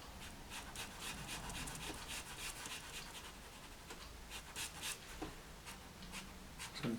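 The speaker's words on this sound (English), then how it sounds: "just using that pencil on its side, just put a little shimmer onto the water" A pastel pencil scratches steadily across paper in close, continuous light strokes, used on its side, a dry rasping texture with no voices.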